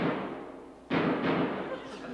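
Gunshot fired into a pillow in a sitcom scene, a sharp muffled thump followed by a second softer thud, close and loud over a steady noisy background.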